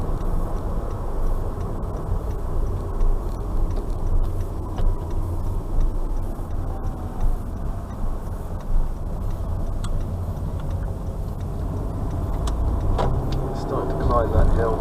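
Car engine pulling up a hill in second gear with a little more throttle, a steady low drone under ongoing talk, with faint ticking in the background.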